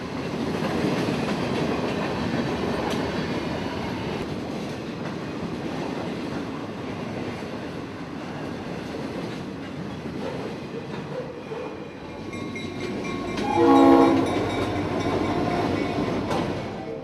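A long FEC and CSX intermodal and manifest freight train rumbles steadily past at Fort Pierce, Florida, loud and continuous with wheel clatter, and a brief horn blast rises near the end.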